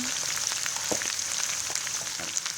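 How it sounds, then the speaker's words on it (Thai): Pickled fish frying in hot oil in a pan gives a steady, dense sizzle with scattered pops and crackles, close up and continuous, with no voices. "ทอดไปเลยกันนะครับ"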